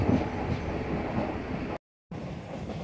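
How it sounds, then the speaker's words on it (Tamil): A 12-car MEMU passenger train runs between Katpadi and Chittoor with a steady rumbling rattle heard from inside. The sound cuts out briefly partway through, then resumes. "நான் ட்ராவல் பண்ண இந்த மெமு ட்ரெயின் வந்து 12-car மெமுங்க."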